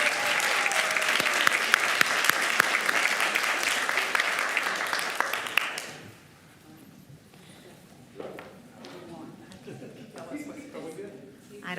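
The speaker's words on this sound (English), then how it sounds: "Let's give them another round of applause." An audience at a school district board meeting applauds loudly for several seconds, then the clapping cuts off and a quieter room follows with a voice speaking and some shuffling.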